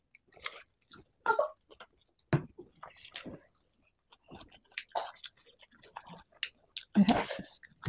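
Someone eats a spicy masala dosa up close, with scattered soft chewing and biting sounds in short bursts and brief quiet gaps.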